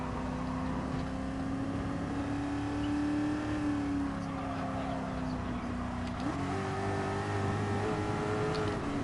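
Porsche race car engines drone steadily around the Nürburgring Nordschleife in a racing game, a sustained, tonal whine that shifts in pitch as the cars accelerate and change gear.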